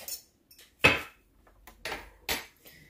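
An egg being mixed in a bowl for homemade brioche dough, with a few sharp clinks of a utensil against the bowl spaced irregularly over a few seconds, close and otherwise quiet.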